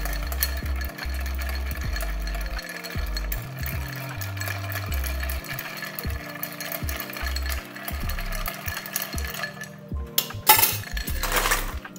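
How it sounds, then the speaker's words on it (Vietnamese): A bar spoon clinks and rattles rhythmically against ice in a mixing glass as a Black Manhattan with rye whiskey is stirred, close and clear, ending with a few sharper knocks and clatters. "đầu tiên thì mình sẽ khuấy cái món cocktail này lên"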